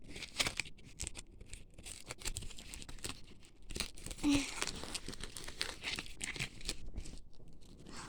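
A pack of trading cards being torn open, its wrapper crinkling and tearing in close, uneven bursts with a brief louder rip midway, amid occasional light handling noise.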